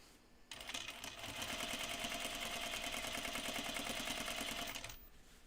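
A sewing machine topstitches denim jeans in one continuous, rapid needle run of about four seconds, starting abruptly and stopping cleanly against a quiet room.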